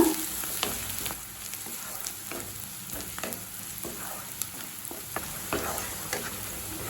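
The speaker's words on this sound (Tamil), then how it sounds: "வெங்காயம் பார்த்திங்கன்னா நல்ல கலர் மாறுற வரைக்கும் வதக்கிக்கோங்க" Steady sizzling of onions sautéing in a hot pan for cauliflower potato gravy, with occasional clicks and scrapes of stirring, continuous and fairly close.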